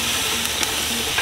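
Prime rib roast searing skin side down on a hot grill gives a steady, close sizzle and crackle with a few sharper pops, with no talking over it.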